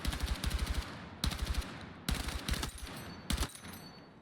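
Rifle fire in the video game Battlefield 6 comes in micro-bursts, each a tight run of four or five loud, close cracks followed by a short pause, repeated several times with no voices.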